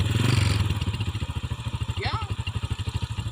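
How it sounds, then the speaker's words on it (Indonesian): An old Honda Supra motorcycle engine with an open air filter idles close by in a steady, rapid throbbing beat, with an airy intake hiss. A voice talks over it at the start. "kalau suaranya ya khasnya kalau open filter, motor open filter, jadi ada kayak desis-desis udara yang kesedot"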